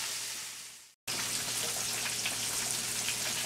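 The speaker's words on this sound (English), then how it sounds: "The fish is still frying." Catfish pieces fry in hot oil with a steady, close crackling sizzle that cuts out briefly and then resumes at full strength.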